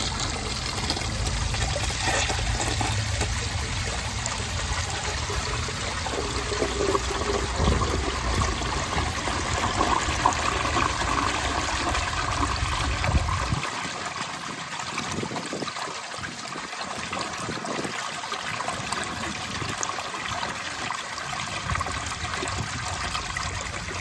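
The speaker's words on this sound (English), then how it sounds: "Let's give it a flush." A 1971 round Kohler Wellworth toilet flushes with a steady rushing pour of water, then the low roar drops away midway into a thinner trickle and refill hiss, close and alone.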